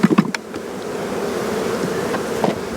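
Honey bees buzz steadily around open hive colonies at a bee farm, a dense continuous hum with a few louder close passes near the start.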